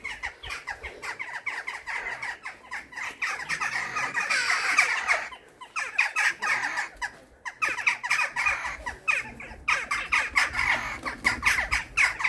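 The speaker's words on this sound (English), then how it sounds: "And you can hear all the crows." Crows caw in harsh, scratchy squawks repeated in irregular bursts, several birds overlapping at moderate distance at Glendalough, with no talking.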